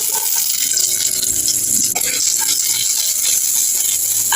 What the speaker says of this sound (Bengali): কড়াই গরম করে নিয়েছি, এবার এর মধ্যে দেব সর্ষের তেল।